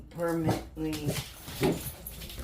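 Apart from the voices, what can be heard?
dogs barking in the background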